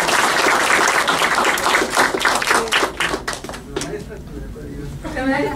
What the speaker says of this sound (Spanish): Aunque con ese aplauso yo tampoco lo intentaré, uno más fuerte.